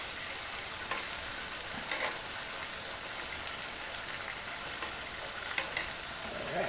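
Chicken fries in oil for a Jamaican brown stew, a constant close sizzle and crackle with occasional pops and light spatula scrapes, no talking.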